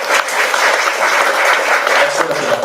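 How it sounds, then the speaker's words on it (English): A crowd claps loudly and continuously, a dense wash of applause filling the whole clip. "That's worth an applause"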